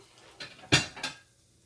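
A plate handled in a home kitchen, with three quick clinks and clatters of dishware, the middle one loudest, and then quiet.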